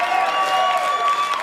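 A crowd audience claps and applauds loudly and steadily for about a second and a half, with a few faint cheers mixed in.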